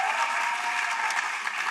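Audience applause at an annual honors and awards ceremony, a steady, even patter of many hands clapping with no break across the whole stretch.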